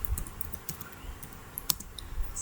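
Keystrokes on a computer keyboard while an SQL database query is typed, an irregular run of soft, close clicks with a few sharper taps, no voices.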